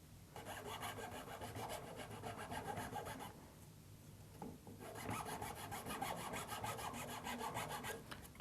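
A hand rasp works a cork ring handle in long, steady strokes, a continuous close-up scraping that pauses briefly midway before the rasping resumes just as strongly.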